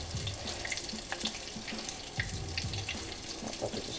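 Spicy salmon bites fry in a crowded skillet, giving a steady, fairly quiet crackle and hiss sprinkled with small pops, with no voices over it.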